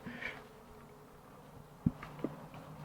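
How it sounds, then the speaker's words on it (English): Angry honeybees from a disturbed hive make a faint, continuous buzzing, broken by a couple of brief soft knocks near the end. "Damn bees."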